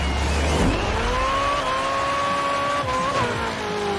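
An Aston Martin driving with a steady, loud engine note that rises and then holds, its pitch wavering slightly near the end, with no voices over it.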